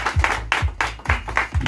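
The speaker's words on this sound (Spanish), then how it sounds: "Vaya aplauso, eso es bello." Guests applaud at a subscriber celebration, delivering several separate bursts of clapping in a fairly close, uneven rhythm.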